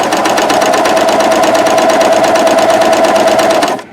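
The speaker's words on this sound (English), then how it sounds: "Now I can top cover stitch" A Janome CoverPro 3000 coverstitch machine runs a top cover stitch in one loud, fast, continuous rhythmic rattle that stops abruptly at the end, close to the machine with no talking.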